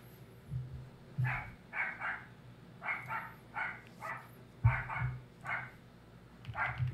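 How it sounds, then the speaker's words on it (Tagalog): A dog barks repeatedly in short, evenly spaced bursts, about a dozen moderately loud barks in quick succession with no one talking over them. "Grabe aso."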